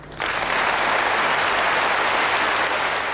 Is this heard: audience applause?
yes